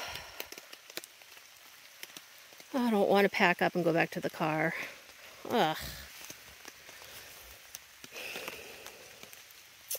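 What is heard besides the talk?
rain falling on a campsite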